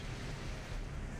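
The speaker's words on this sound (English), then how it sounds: "You hear that waterfall, Alan?" Roaring waterfall in Final Fantasy 14, heard as a steady broadband rush of falling water that is continuous and even with no talk over it.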